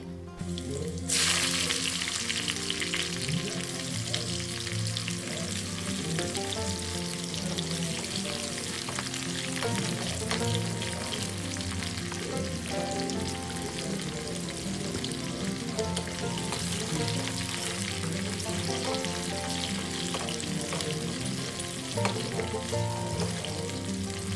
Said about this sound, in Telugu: ఇంకా తాలింపు అయితే వేసేస్తున్నానండి